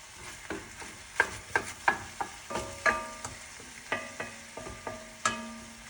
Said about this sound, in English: I'll continue to break it up, and we're gonna continue to cook the meat till it's nice and brown.